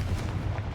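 A Confringo blast spell goes off in Hogwarts Legacy as one heavy booming explosion with a deep rumbling low end that stays dense for the whole short moment.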